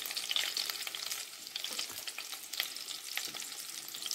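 Small chicken pieces frying in oil in a wok for chilli chicken: a dense, steady hiss of bubbling oil with crisp crackles and occasional stirring, close but moderately quiet, no voices.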